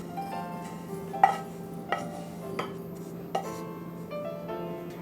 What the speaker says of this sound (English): I'll transfer the mixture into a deep bowl